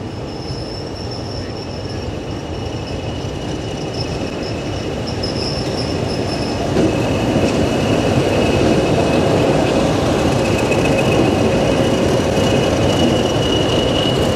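Class 33 diesel locomotive 33202 hauling a heritage train on the Mid-Norfolk Railway, heard from inside a carriage as a steady loud rumble with squealing wheels, the engine note swelling louder partway through.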